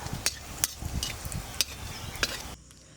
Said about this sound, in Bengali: তারপর সেই তেলের মধ্যে দিয়ে দেবো একটা তেজপাতা, একটা শুকনো লঙ্কা আর কিছু পরিমাণে জিরে। এটাকে নিয়ে লাল লাল করে ভেজে নেব।